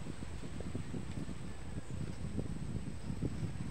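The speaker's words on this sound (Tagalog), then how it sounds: "Sobrang lakas ng hangin." Strong wind blows steadily across an open golf driving range, a continuous low rumbling buffet of gusts against the microphone with no voices.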